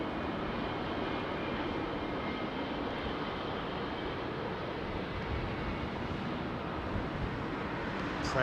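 An Emirates Airbus A380 arriving at London Heathrow on runway 27R gives a steady, broad, rushing engine roar, fairly faint and distant, continuous throughout with no voices.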